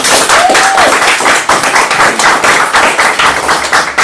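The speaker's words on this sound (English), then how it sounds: "Everybody give her a round of applause." A round of applause at a team meeting, continuous clapping from a small group filling the whole stretch, close and fairly loud, with a faint whistle-like tone near the start.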